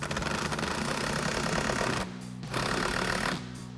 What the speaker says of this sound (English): you want to grab an 11mm socket on your impact